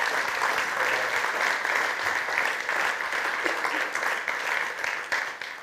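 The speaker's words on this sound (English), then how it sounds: "So anyway, so round of applause to Joseph again." Audience applause at a BAE Systems Brass Band concert in a Salvation Army hall in Chatham, a steady, even wash of clapping that holds for several seconds before tapering slightly at the close.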